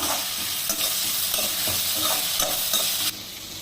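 Tomatoes sizzling and frying in a pan, with occasional stirring scrapes over a constant hiss.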